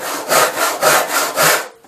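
Handsaw working through wood on a workbench, four rhythmic back-and-forth rasping strokes, close and loud.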